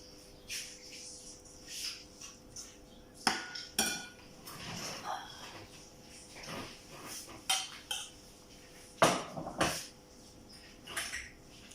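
Cooked amaranthus spinach being dished up at home, with scattered clinks of cutlery and spoon against pots and plates, irregular and close, over a faint background of insect chirping.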